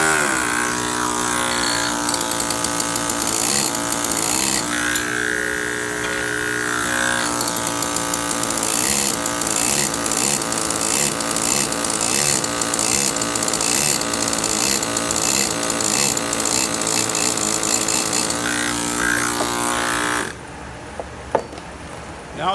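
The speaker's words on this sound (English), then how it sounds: "I'd rather go through it like I showed you with a round chisel that'll enter the cut" A round chisel, driven by a steady mechanical hammer, cuts a line into a granite block with a loud, continuous buzzing rattle that shifts slightly in tone partway through and stops abruptly near the end.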